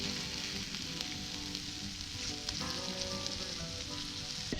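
Sofrito sizzling in a pan over an open fire, a dense, even crackle and hiss of frying held close and steady throughout, with faint stirring.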